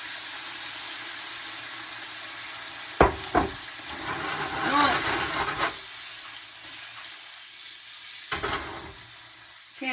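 Canned diced tomatoes tip into toasted spices in a hot pan for enchilada sauce, with a couple of sharp thuds and a steady hissing sizzle rising, then settling into a low frying hum.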